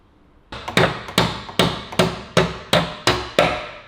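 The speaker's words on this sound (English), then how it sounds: "You can also use it as a hammer." Eight sharp hammer blows land at an even, unhurried pace, each one ringing briefly before the next strike. No voices.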